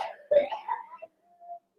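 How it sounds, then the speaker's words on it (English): A brief throat-clearing cough bursts out once in the background, followed by a faint murmur and a soft trailing tone. "Please excuse the cough in the background."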